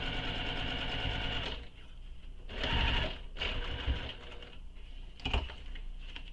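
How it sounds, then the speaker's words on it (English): A sewing machine stitches the seam of a crossbody bag in bursts of fast, close mechanical whirring, separated by short pauses as the fabric is repositioned. "you'll sew this with the seam allowance that's given in the pattern"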